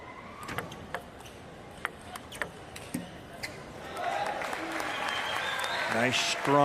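Spectators at a para table tennis match, with a French crowd backing their player: a few sharp ball taps at first, then clapping swells into a growing wave of applause and cheers.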